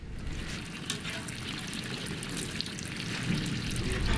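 Water steadily pours and splashes as boiled mushroom-growing material is strained, a continuous wet hiss and trickle that stays even throughout.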